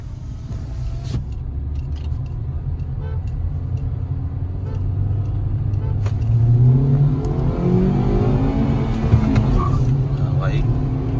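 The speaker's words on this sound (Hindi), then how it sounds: "अपना फोर्थ राउंड रोलिंग रेस करके देखते हैं 20 की स्पीड में भाई" Hyundai Verna 1.5 diesel and petrol cars in a rolling race from 20 km/h, a deep engine rumble that swells and climbs in pitch as they accelerate, heard close with voices over it.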